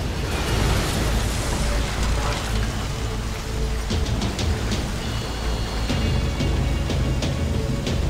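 A bomb blast in the Max Payne game leaves a loud, sustained roar of fire and debris that fills the scene, with crackling bursts scattered throughout.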